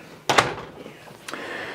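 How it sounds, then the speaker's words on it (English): A door inside a 2019 Coachmen Catalina 313 DBDS travel trailer swings shut with a sharp double knock, followed a moment later by a softer latch click, close by in a quiet interior. "then we'll go ahead and shut this door"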